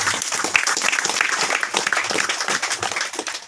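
Church congregation clapping in praise during a sermon, a fairly close, continuous patter of many hands with uneven bursts and little speech.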